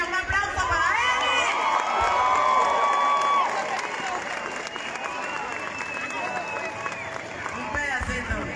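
A concert crowd cheers, claps and whoops for a salsa singer in a lively ongoing roar, with music and voices running through it.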